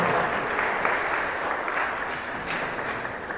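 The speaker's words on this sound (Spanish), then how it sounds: "Un fuerte aplauso" Church congregation breaks into sustained, evenly spread applause that fills the room, with no talking over it.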